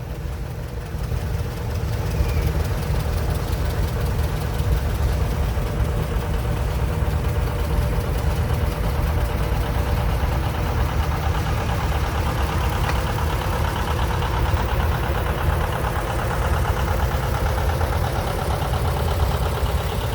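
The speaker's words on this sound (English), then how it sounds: "a 1959 John Deere Model 730 Diesel, also owned by Ron Williams out of Piketon" A 1959 John Deere Model 730 Diesel tractor idles steadily at an antique tractor parade, its loud, continuous low diesel thrum holding even for the whole stretch with no talk over it.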